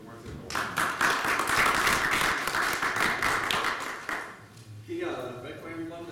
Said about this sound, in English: please, a big applause for Martin Albert